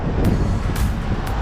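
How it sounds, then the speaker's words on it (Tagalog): Cold wind blowing outdoors in Canada, loud low rumbling buffeting across the microphone with brief hissy gusts. "Malamig na yung hampas ng hangin."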